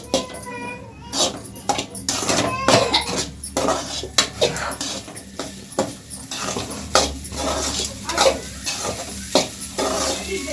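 Jeera rice being stirred in a metal pot after salt and chili powder go in, with repeated scraping and clinking of a spoon against the pot over a faint sizzle, while people talk in the background.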